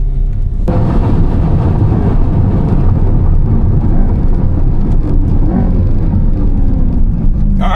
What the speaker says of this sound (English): Drag race.